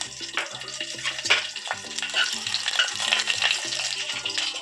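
Chopped green chillies sizzle and crackle in hot mustard oil and white oil with mustard seeds, a close, steady frying hiss with busy popping and the scrape of stirring.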